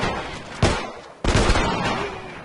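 Gunfire from The Last of Us: two loud, sharp shots a little over half a second apart, each with a booming reverberant tail, and no talking.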